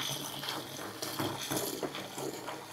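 Water pouring into a bathtub to soak an antique Persian rug, a steady splashing gush with irregular bubbly surges, close by and unaccompanied by speech.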